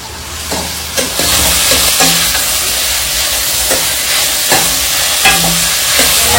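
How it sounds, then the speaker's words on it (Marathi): Tomatoes and onion fry in a hot pan, giving a loud, steady sizzle and hiss up close, broken by a few stirring scrapes and clatters, with no talking. "आता मी टोमॅटो टाकून घेते"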